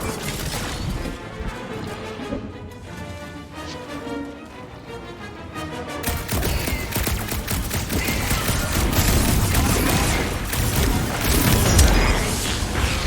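Weapons fire at jelly creatures in Guardians of the Galaxy, first under mechanical, musical game sounds, then turning into a dense, sustained barrage of rapid shots and impacts that grows louder toward the end.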